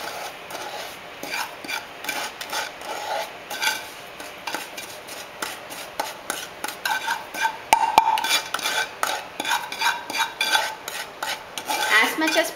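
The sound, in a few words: scraping cooked rava kesari from pan onto a plate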